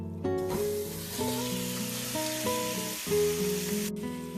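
Marinated chicken sizzles in a hot pan with cumin, giving a continuous close frying hiss over a steady tonal background, with no talking.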